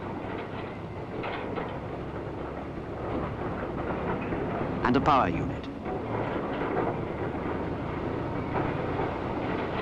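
Steady rumbling of a 1966 concreting train with hopper wagons rolling along rails, with a brief louder clank midway and a voice speaking over the noise.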